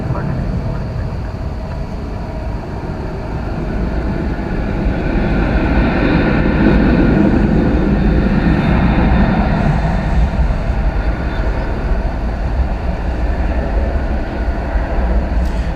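A Boeing 747-400 jet airliner at DFW Airport gives a loud, steady broadband engine roar that swells gradually and holds, with no pause throughout.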